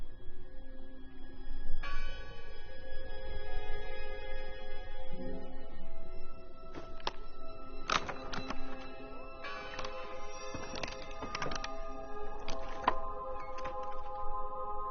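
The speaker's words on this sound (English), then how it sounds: "I heard the bell." Bell tolling in the horror game Draugen, several clear struck strokes ringing out with sustained overtones, over a low ambient drone and scattered creaks.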